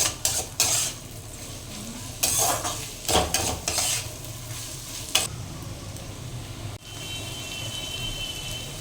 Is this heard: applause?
no